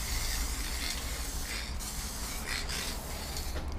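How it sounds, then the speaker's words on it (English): A spray paint can sprays graffiti in a steady, close hiss that runs almost continuously, with a few brief pulses in intensity. "I'm running out of spray now."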